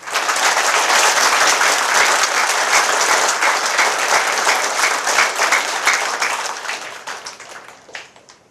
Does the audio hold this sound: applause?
yes